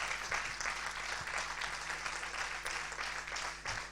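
A church congregation gives a round of applause for sisters celebrating birthdays, a fairly faint, even spread of clapping across a large room with a low background hum.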